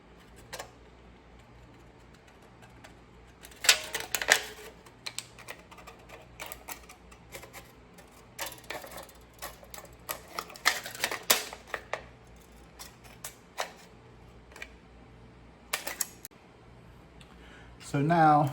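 Scissors snip and crunch through a thin aluminum can in quick bursts of sharp clicks while making an alcohol stove, close up, with pauses between cuts.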